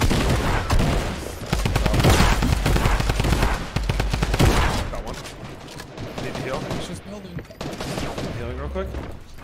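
Fortnite gunfire in a match, dense rapid bursts of shots rattling loudly and almost continuously, with players' voices mixed under and between the volleys.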